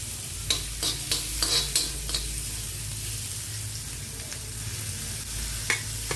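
Tomato goes into onions already frying in a pan for karchikayi palya, with a steady sizzle beneath repeated scraping and clattering stirring strokes, close and moderately loud, no voices.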